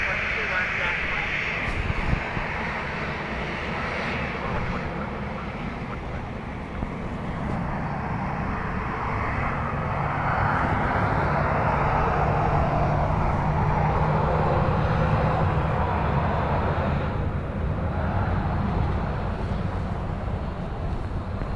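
A plane landing on runway 28 left at Dublin Airport in blustery crosswinds, heard as a continuous broad engine roar that grows somewhat louder midway, with a steady wind-like rumble throughout.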